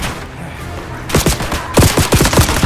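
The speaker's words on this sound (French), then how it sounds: "Je me fais tirer dessus!" Gunfire in a war action film: after a quieter start, rapid bursts of automatic shots crack out in quick succession, loud and close, filling the second half.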